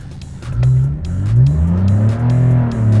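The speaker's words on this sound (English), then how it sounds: "So we're gonna demonstrate launch control." A 2012 Porsche 911 engine revving under launch control, close and loud, the pitch climbing and holding in a strained high rev with some pulsing fluctuation, no talking.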